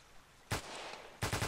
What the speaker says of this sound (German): Schüsse aus Nordwest.